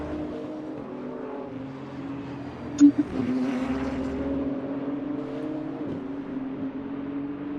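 A GT3 race car on fresh tyres pulls out of the pits at a Winter GT3 Championship round, its engine a steady, moderately loud drone with a brief sharp knock partway through.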